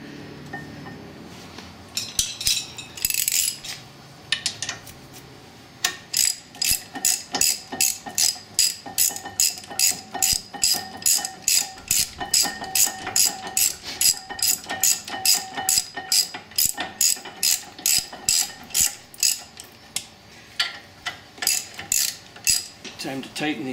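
A ratchet wrench tightening the front brake caliper bolts on a 2011 Cadillac SRX, a long run of rapid, evenly spaced clicking strokes up close and loud, with brief pauses between bursts and no talking.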